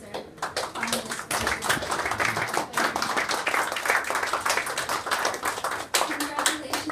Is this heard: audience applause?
yes